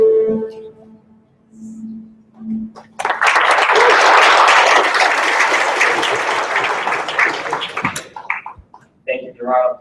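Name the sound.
audience applause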